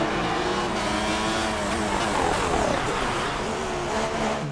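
Formula One cars in F1 2016 cross the finish line on a wet track, a steady close engine roar with rising and falling pitch that never lets up.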